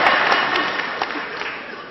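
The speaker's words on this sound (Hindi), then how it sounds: "समापन पर भरपूर तालियों से विदा करना" Audience applause closing a Hindi poetry recital in Tinsukia, a brief, dense burst of many hands clapping that fades slightly toward the end.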